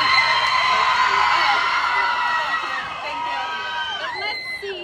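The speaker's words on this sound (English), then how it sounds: "we'll do right side scream loud, and then left side scream loud" A large crowd of K-pop fans at Asia Times Square screams loudly and continuously. Several shrill whoops rise and fall near the end.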